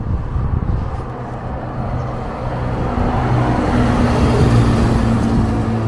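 Porsche 911 GT3 cars on the Nürburgring during a public driving session, a loud engine roar building as two cars close in and pass each other, swelling toward the end.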